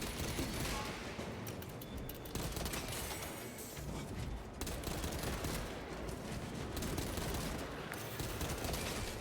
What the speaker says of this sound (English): You don't get to shoot me, I shoot you.